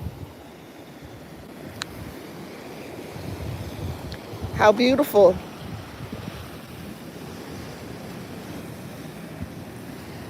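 Ocean waves wash steadily onto the shore as a constant broad rush, mixed with wind buffeting the microphone, while a voice speaks briefly partway through.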